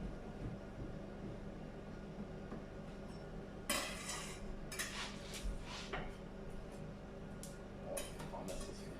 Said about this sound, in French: on va touiller un peu le quinoa